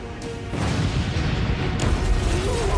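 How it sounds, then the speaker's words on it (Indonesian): A bomb explosion in the film High and Low The Movie 3: a deep, rumbling boom swells into a sustained roar of explosion noise, with a second surge of blast sound partway through. "Waktu semakin sedikit dan bom pun meledak."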